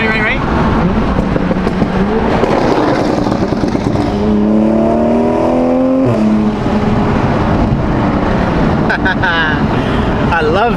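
BMW M4 with a blown-up engine revving loudly while driving, a sustained close engine roar with rising and falling pitch sweeps, people talking over it.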